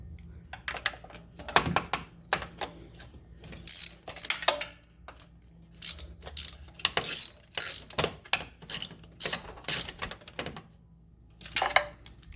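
Bolts on a Polaris Slingshot starter are snugged down with a hand ratchet, giving bursts of rapid clicking spread across the stretch, each a second or so long, close and fairly loud, with faint talk in places.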